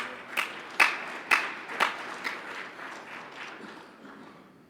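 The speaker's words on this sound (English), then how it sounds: "Give Tim a big round of applause." An outdoor audience at a GNCC off-road racing event gives Tim Gallagher a thin, scattered round of applause: a handful of distinct, moderately loud claps trailing off into faint patter.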